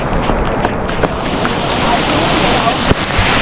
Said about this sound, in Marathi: जोराचा पाऊस सुरू झाला आहे, खूपच खतरनाक पाऊस आहे.